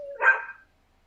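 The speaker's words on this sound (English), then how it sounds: "it sounds like your dog specifically wants to be" One short dog bark sounds close but moderately quiet, a single yelp-like burst that cuts off into silence with no talking over it.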